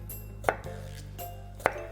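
A knife slices a radish flat on a cutting board during a Korean cooking lesson, giving two sharp, distinct chopping thuds roughly a second apart, close and clear against a quiet room hum.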